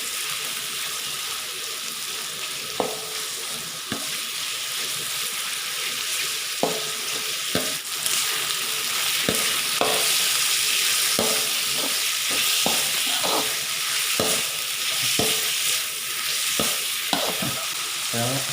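Steady loud sizzling of sliced pork tenderloin stir-frying in a hot pan, with repeated clanks and scrapes of a spatula stirring throughout.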